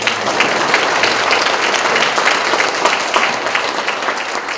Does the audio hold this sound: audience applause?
yes